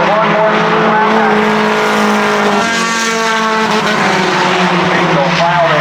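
Race cars roaring around a speedway oval during a heat or feature race, a loud continuous engine drone with shifting pitch as cars pass, overlaid by an announcer's commentary throughout.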